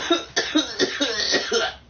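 A man coughs repeatedly, around five or six harsh, rough bursts in quick succession, close and loud with no talking over them.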